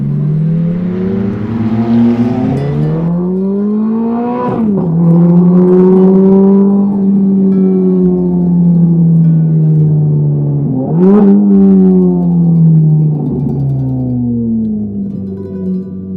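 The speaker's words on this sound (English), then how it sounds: "we've got over 480 horsepower coming out of this V8" Ferrari F430 sports car with a 480-horsepower V8 driving hard, loud close engine drone rising in pitch through the gears, dropping sharply at two upshifts before climbing again.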